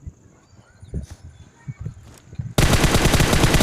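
Rapid automatic gunfire in a shooting video game bursts in loudly after quieter thumps and movement, a dense continuous volley held until the end.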